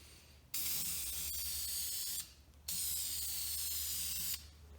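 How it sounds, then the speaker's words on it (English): A spray paint can applying paint to a wheel for curb rash repair, two long hissing bursts with a short pause between them, close and steady, with no talking. "So let's spray a little bit out here and get the can going."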